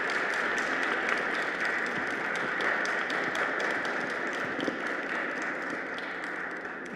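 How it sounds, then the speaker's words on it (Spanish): An audience at a children's book presentation for author Sophie P. Guido gives steady, sustained applause, dense clapping that carries at an even level throughout without a break. "para quien pido un fuerte aplauso"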